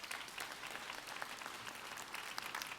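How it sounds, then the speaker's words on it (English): Steady applause from a crowd at a university Founders Day convocation, somewhat distant and soft, continuing evenly throughout. "Let's give them a round of applause again"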